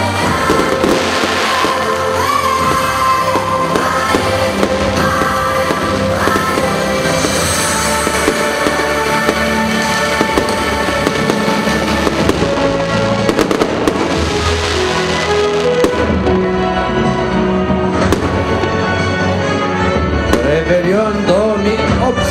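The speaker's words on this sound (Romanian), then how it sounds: "cele mai tare artificii din lume" New Year's 2018 fireworks burst over Piața Unirii, the city square in Focșani, in loud, continuous rapid crackling and popping explosions that last throughout with no talk.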